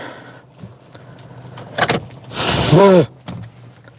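A car's power window whirs down in one short motorized stroke, preceded by faint clicks and a thump.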